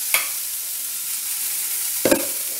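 Thavala adai batter cooks in oil on a pan with a low, steady sizzle, broken by two sharp scraping clatters, one near the start and one near the end.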